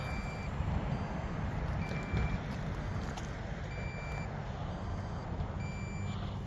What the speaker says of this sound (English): Yeah, because it's beeping right away.